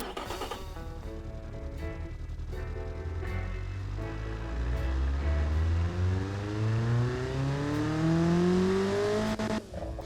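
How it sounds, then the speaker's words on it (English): A small, cheap engine in the Automation car-building game revs up to about 5,800 rpm, its tone climbing steadily and growing louder as it accelerates, with no voices over it. "Yes, our little cheapo engine is performing well."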